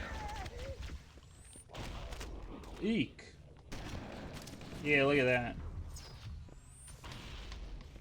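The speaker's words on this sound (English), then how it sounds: "Chain reaction explosions." Chain reaction explosions in the video game Halo: Combat Evolved, a burst of booming blasts and gunfire-like cracks that stack up amid game sound effects, with someone talking over them.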